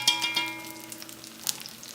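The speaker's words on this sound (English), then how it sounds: "And I'm pan frying them." Brussels sprouts frying in frying pans, a steady close sizzle with a few sharper crackling pops and spits over a low stove hum.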